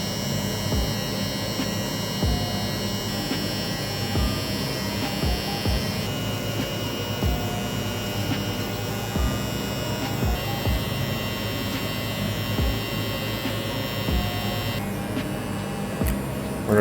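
Electric hair clippers with the lever closed hum and buzz steadily and close up while doing a tight side blend on a men's buzz cut, running continuously without talk.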